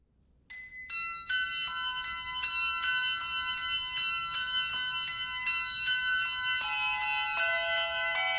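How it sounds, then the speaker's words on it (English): Church bells peal in a steady cascading sequence, bright overlapping tones ringing continuously and fairly loud, with no voices. "So we start off with the tower bells, with the church bells ringing."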